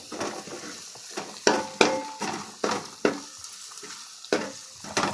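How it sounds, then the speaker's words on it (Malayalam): Spice masala for a duck fry being stirred in a pan, an irregular run of scraping, clinking spoon strokes over a continuous frying sizzle. "ഇളക്കി നന്നായി ഇളക്കി കൊടുക്കണം"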